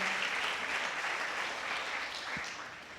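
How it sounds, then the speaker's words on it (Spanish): Sustained applause from a church congregation, a dense even wash of clapping that slowly fades toward the end. "Dele ese aplauso al Señor."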